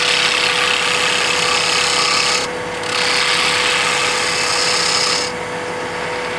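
A lathe spins a wood blank while an Ellsworth gouge cuts it, a steady, loud hissing scrape over the motor's hum, with two brief pauses as the tool lifts off the wood.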